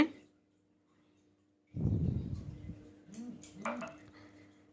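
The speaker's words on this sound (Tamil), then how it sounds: "அப்படியே ஸ்லோவாக மிக்ஸ் பண்ணிக்கிட்டே இருக்கணும் விட்டுறக்கூடாது" A utensil stirring red rice porridge in a metal pot: after a quiet start, close scraping and clinking against the pan with a few ringing metallic taps, no speech.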